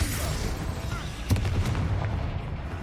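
In the video game Hogwarts Legacy, a Confringo fire spell blast gives a dense, loud rumbling roar with a sharper burst partway through, set amid continuous in-game noise.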